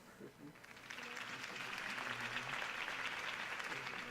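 Crowd applause rises and holds steady after a campaign speech for Harvey Dent at a Gotham City rally, a broad wash of many hands clapping with voices mixed in underneath.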